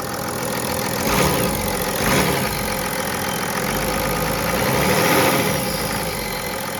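A BMW E70 X5 35d turbo diesel engine idles steadily and loudly up close, with a couple of brief rises in pitch as the throttle is blipped.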